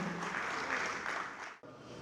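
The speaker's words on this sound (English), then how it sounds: "please give a warm round of applause" A warm round of applause fills the hall at an awards and business summit, a dense steady wash of clapping that cuts out abruptly near the end before resuming.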